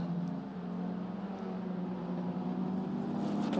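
Two single-seater race cars through the Quercia corner, a steady droning engine note held at even loudness, somewhat distant, with no commentary heard.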